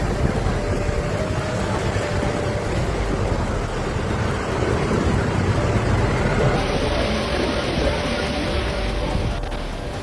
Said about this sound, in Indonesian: Meski hujan tidak terlalu deras